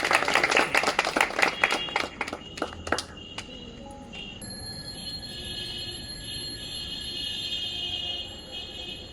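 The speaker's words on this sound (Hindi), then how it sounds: "आपकी तालियों के बीच एक बार शुरुआत हमें दीजिए" Audience applause before a stage play, brisk clapping for about three seconds that fades out and gives way to a quiet room with a faint steady tone.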